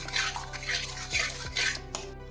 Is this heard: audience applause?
no